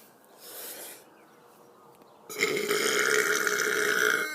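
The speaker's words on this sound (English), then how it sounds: "It's been a while since I burped, so I might be a little bit rusty." A person lets out a long, loud, close burp that swells partway through and holds to the end, following a quieter breathy stretch.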